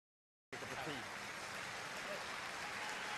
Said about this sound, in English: And the crowd know it's good, clapping